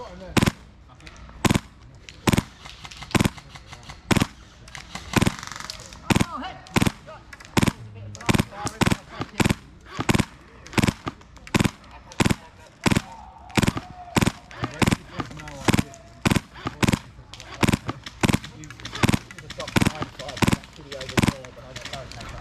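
Airsoft guns fire during an airsoft game on a crater-themed field, sharp pops at close range repeating steadily for over twenty seconds, sometimes in quick pairs, with a voice talking underneath.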